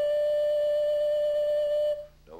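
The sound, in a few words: Native American flute playing note number 3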